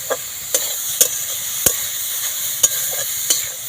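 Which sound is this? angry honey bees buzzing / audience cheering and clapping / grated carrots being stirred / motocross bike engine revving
grated carrots being stirred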